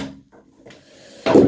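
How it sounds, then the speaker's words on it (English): A chair is moved across the floor during a knee exercise demonstration, with soft shuffling followed by a louder wooden bump and scrape near the end. "I'm going to bring a chair over"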